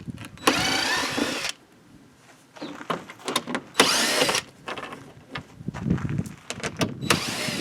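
Power driver fitted with a T30 bit spinning bolts loose during a Kemimoto fender flare install on a KRX: several short, loud whirring bursts separated by pauses, with faint clicks and handling noise in between.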